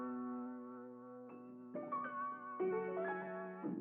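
A dark, lo-fi vintage upright piano sample pitched up an octave plays sustained chords that shift every second or so, muffled and soft with no voices.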